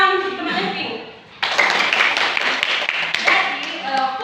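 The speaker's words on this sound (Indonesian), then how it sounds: "Tepuk tangan untuk teman Eping" Classroom applause for a student: after a brief stretch of talk, a burst of many hands clapping starts abruptly and continues, fairly loud, with a voice briefly over it.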